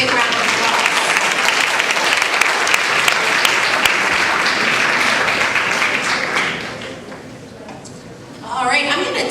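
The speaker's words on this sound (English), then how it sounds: "Let's give them a big round of applause." Sustained applause from a sizable audience at a middle school awards ceremony, dense and even, fades after several seconds before a brief burst of renewed clapping.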